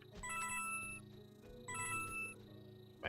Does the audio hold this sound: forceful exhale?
no